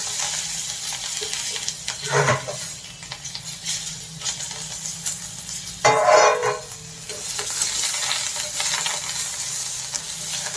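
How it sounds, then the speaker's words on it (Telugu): Sliced onion sizzles while frying in a pan for masala poha, a soft steady hiss with brief stirring scrapes and clinks breaking in now and then, close by and without speech. "ఇదిగోండి ఇట్లా ఉల్లిపాయ వేగుతున్నప్పుడు"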